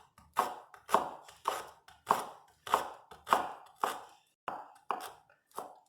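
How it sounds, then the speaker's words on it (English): A kitchen knife mincing ingredients on a cutting board for a vegan peanut butter tofu stir fry: about ten firm, evenly spaced chopping thuds, close and distinct, with no speech. "we're going to cut it off and then we're going to mince it"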